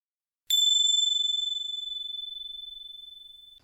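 A single small bell is struck once during meditation, giving a clear high ding that rings on and slowly fades for about three seconds in otherwise silent surroundings.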